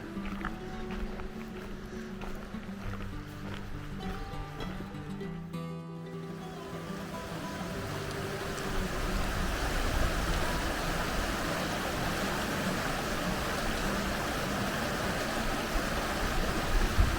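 Bear Creek, a knee-deep stream on the PCT/JMT between Bishop and Mammoth Lakes, rushes and gurgles as a steady broadband wash that swells louder and nearer over the second half, alone without talk.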